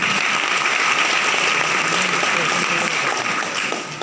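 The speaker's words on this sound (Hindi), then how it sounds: "राजू सर और ललिता मैडम के लिए एक बार जोरदार तालियां।" An audience at a Safe Shop business gathering claps loudly and continuously in a dense wash that fades slightly toward the end, with a voice speaking over it.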